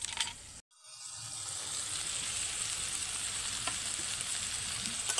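Potato and pointed gourd (potol) sautéing with spices in a pan, a steady close sizzle and fry that runs almost the whole time after a brief break near the start.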